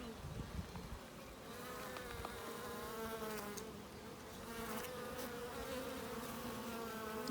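Honeybees buzz in a dense, steady swarm during a hive inspection as they cling together building comb, a close, continuous drone with no talk over it.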